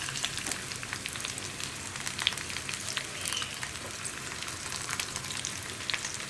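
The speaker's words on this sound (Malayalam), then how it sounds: "ഇങ്ങനെ കറിവേപ്പില വെച്ചിട്ട് ഫ്രൈ ചെയ്യുമ്പോൾ ആ വെളിച്ചെണ്ണയിലേക്ക് മുഴുവൻ നമ്മുടെ കറിവേപ്പിലയുടെ ഫ്ലേവർ ഇറങ്ങി വരും" Kozhuva fish frying in coconut oil with curry leaves, a continuous dense crackling sizzle that holds steady at moderate loudness throughout with no voices.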